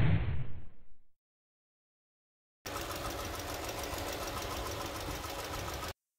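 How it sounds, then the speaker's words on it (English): A 2018 Mercedes 1.6 liter engine with roughly 160,000 miles runs with a rapid rattling knock, heard close for about three seconds after a fading burst and a silent gap. "the nature behind the knocking noise of this engine cannot be verified right here without more tools and within our limited time"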